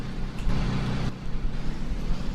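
Thomas FS65 bus engine in Rigs of Rods, a continuous low droning rumble with a brief dip before climbing back, heard alone without talk.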